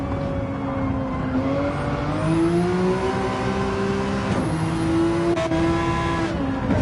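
Audi race car engine in a Goodwood sim race, a steady loud drone with pitch rising through the gears and dropping at each shift, close on board and continuous.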